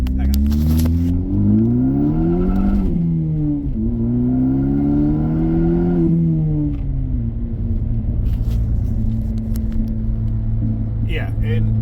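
A 2014 Ford Focus ST turbo with a 6-speed pulls away close up, engine rising through two loud accelerating pulls and a shift, then settling into a steady cruising drone.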